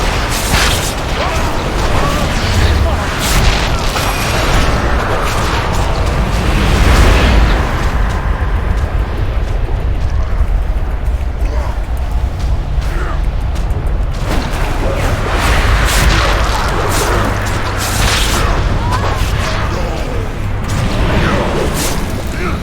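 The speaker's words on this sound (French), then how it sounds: "l'artillerie qui arrive" Artillery explosions during a heroic-mode Ny'alotha raid in World of Warcraft, loud booming blasts and bursts recurring over dense game effects and mechanical noise, with voices talking faintly underneath.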